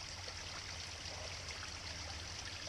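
Running water of a stream on a steep uphill river crawl, a steady close rushing and trickling wash that fills the whole stretch with no voices.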